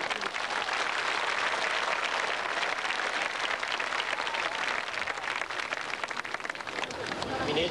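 Crowd at a live performance breaks into sustained applause and cheering, a dense, loud wash of clapping that holds steady throughout and thins slightly at the very end.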